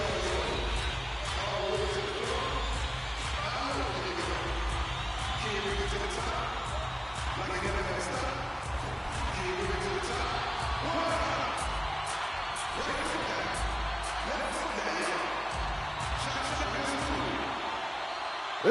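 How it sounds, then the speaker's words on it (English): Dense arena crowd noise from an NHL 25 hockey game between the Panthers and Oilers in Florida during the Stanley Cup Final, a steady roaring buzz that runs throughout alongside faint commentary. "This crowd is buzzing here in Florida."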